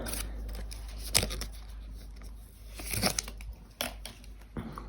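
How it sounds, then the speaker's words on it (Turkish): AirPods Pro 2 packaging is opened close by, with quiet rustling, scraping and crinkling and several sharp clicks and snaps at irregular intervals over a low background hum. "Evet şimdi de kulaklığımızı açalım."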